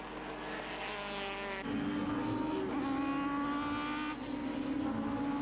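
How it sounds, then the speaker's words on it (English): Super Touring race cars from the 1995 South African championship scream past at Zwartkops circuit, engines droning loudly and continuously with pitch shifts as gears change and cars run side by side. "winner Mike Briggs is right on his tail with Grant McCleary and Anthony Taylor side by side as they go through the citizen sweep."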